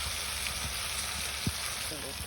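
Potatoes dropped into hot oil left over from frying fish in a village kitchen, a steady close sizzle and crackle with a faint stirring knock, no talk over it.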